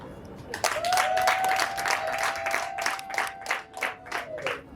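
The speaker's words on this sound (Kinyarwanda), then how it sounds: "maze nabo babiha amashyi" A wedding crowd claps steadily for a few seconds, the applause thinning into scattered claps, while a sustained tone hums underneath.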